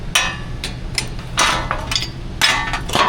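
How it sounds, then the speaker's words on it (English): A wrench works a stuck bolt on a Toyota Tacoma wheel hub: a run of bright, clanking metal bursts in quick, uneven succession, loud and close. "It's not working, so we'll turn it with the wrench."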